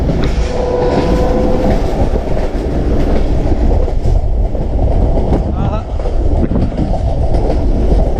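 A passenger train rolls along through torrential rain, with a steady, loud, continuous rumble and wash of noise, faint rail clatter and occasional voices underneath.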